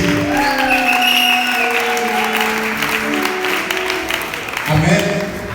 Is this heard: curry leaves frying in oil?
no